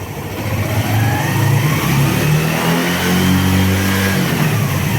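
A motorcycle engine revved to about 6000 rpm while its stator coil is tested, a loud, close, rising mechanical drone with a climbing pitch that holds high, no talking.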